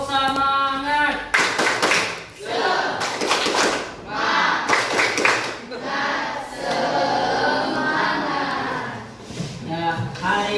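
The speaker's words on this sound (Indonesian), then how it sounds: "Tepuk semangat." A classroom of pupils performs a rhythmic spirit clap during an Islamic studies lesson, with bursts of patterned clapping and chanting voices in several rounds, the teacher's voice also present.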